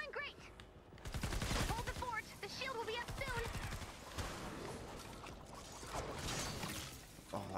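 Gunfire in the Fortnite Save the World video game comes as rapid bursts and a long run of quick repeated shots, mixed under someone talking over much of it.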